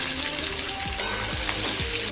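Chopped onions sizzle steadily in hot white oil with five-spice tempering, a dense crackling frying hiss filling the pan, with a few soft stirring scrapes through it, close and continuous with no talk.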